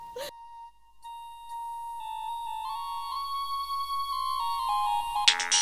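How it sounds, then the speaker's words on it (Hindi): A phone ringtone plays alone, a melodic electronic tune stepping up in pitch and growing louder over several seconds before an abrupt noisy cut. "फोन आ गया शेख जी। रिसीव करो।"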